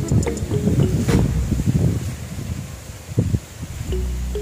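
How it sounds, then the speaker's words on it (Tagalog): Strong typhoon wind gusts across an open cassava and sugar cane field, a rough, buffeting rush heard close to the microphone with intermittent rustling and handling noise. "Kung mapapansin nyo, lakas ng hangin."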